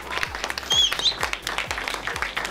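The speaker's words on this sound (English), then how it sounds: "Let's give him a round of applause" Brief audience applause at a school district teachers-of-the-year event for the superintendent of schools, moderate scattered clapping with a few louder claps, fairly quiet in the room.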